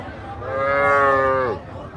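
A calf at a busy calf market lets out a single drawn-out moo, loud and close, with faint crowd murmur behind it.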